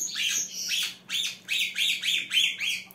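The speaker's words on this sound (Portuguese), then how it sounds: "Se ele vê um passarinho cantar uma vez, ele canta." A pet songbird sings in a series of about six bright, rapid chirping phrases, each rising and falling in quick repeated bursts, fairly close and alone against a quiet room with a faint low hum.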